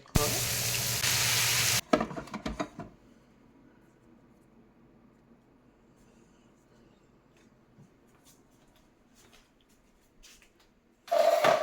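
Chopped tomato and turmeric powder frying in a pan for an eggplant rice dish. A loud sizzling burst opens, then settles into quiet occasional stirring, before another loud sizzle near the end. No talking.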